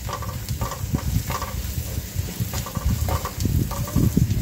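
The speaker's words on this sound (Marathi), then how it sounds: "आता याला आपण छान मिक्स करून घ्यायचं आहे." Onions with goda masala and coriander-cumin powder are stirred in a pan, giving a steady close sizzle under repeated scraping strokes of a spoon. No one talks.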